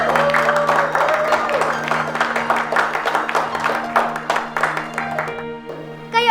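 An audience claps and cheers for a marawis group at a children's drama show, with dense hand claps over a steady held tone and rhythmic strikes before a brief lull.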